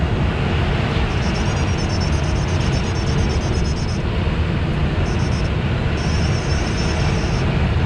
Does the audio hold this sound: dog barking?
no